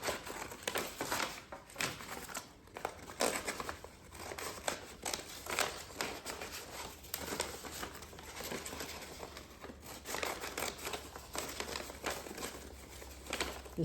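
Scissors cutting aluminum foil for a homemade crown, giving soft close crinkling and irregular snips and rustles, quiet and continuous with no talking.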